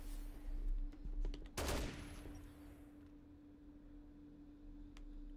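An enemy fires a gun in Dead Rising Deluxe Remaster: a few light, distant cracks, then one loud, sharp burst of fire before the sound fades to quiet game ambience.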